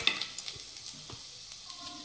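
Chopped garlic and red chillies sizzling in hot oil in a kadhai for a tadka make a faint, soft crackle, broken by a few scattered light clicks and pops.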